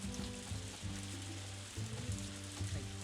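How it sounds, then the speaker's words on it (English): Heavy rain pours in a farming video game, a dense, steady hiss that continues without a break beneath soft, repeating game music. "Ooh, that's big rain."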